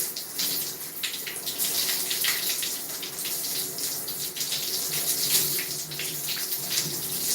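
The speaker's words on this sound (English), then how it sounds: "we're going to do it as if we are a Rasta girl washing our hair" Water running steadily from a tap while hair is being washed, a continuous splashing hiss with slight fluctuations, close and fairly loud, no talking.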